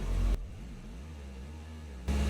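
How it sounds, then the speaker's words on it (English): A Subaru Outback engine revs up to about 2000 RPM, a low steady mechanical drone that climbs briefly and then holds, faint and alone, with louder noise bursts at either end. "So let's increase the RPM to about 2 grand."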